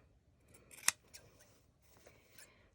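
Scissors snip the fabric corners of a sewn pocket piece, one sharp close cut standing out among a few quieter snips, with no talking.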